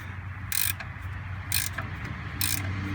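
A ratcheting wrench clicks as it turns a bolt on a 1974 Dodge Power Wagon, three bright bursts of ratchet clicks about a second apart, close and fairly loud over a steady low mechanical hum.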